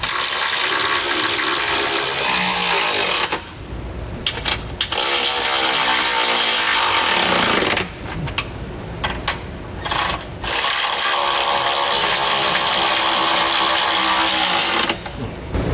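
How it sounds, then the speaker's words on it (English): A ratchet with a 22mm socket snugs down trailer hitch receiver bolts on a 2014 Acura MDX, giving loud, close, rapid clicking in long runs broken by a few short pauses. "You can also use a 22mm, whatever you have handy, and we're going to go ahead and just tighten these down"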